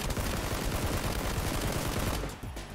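Gunfire in the battle-royale game PUBG: a dense, continuous rattle of automatic shots filling the whole stretch, loud and busy, fading slightly at the end.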